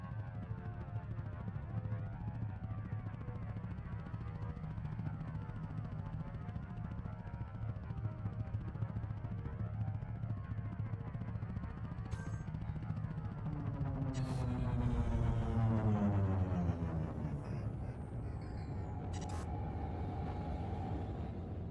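A spaceship glides through a planet's atmosphere in Elite: Dangerous Horizons, giving a steady, heavy engine rumble that swells louder with a rising whoosh about two-thirds of the way through. No one speaks.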